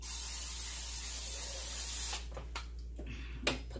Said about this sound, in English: So now I'm going to spray this pan again.